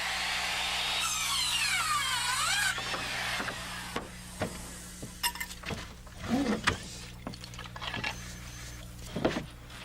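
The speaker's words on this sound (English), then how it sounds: "We eyeball an angle cut at one end, position it, and cut an angle at the top end." A power saw bites into a scrap 1x6 board for an angle cut on a roof frame, with a rising and falling whine of the blade followed by scattered knocks and clatter of wood being handled.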